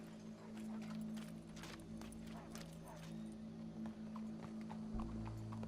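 Horse hooves clip-clop at a steady walking rhythm in the Red Dead Redemption 2 video game, clear and close over a low constant hum.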